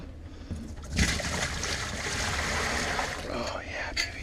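Water splashing and trickling as homebrewing equipment is emptied and rinsed during cleanup, a steady wet wash with a sharper splash near the start and background voices throughout.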